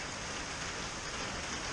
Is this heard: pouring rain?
yes